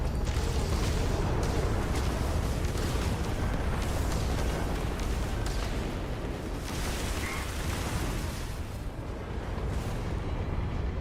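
Missiles explode during space combat in Starfield, a dense, loud rumble of blasts and booms that rolls on continuously with no break.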